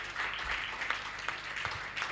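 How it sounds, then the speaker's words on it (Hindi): Faint, scattered clapping from an audience at a Hindi comic poetry gathering, a thin, steady patter of hands heard from a distance throughout. "एक बार इनके लिए ताली बजा के बता दीजिएगा।"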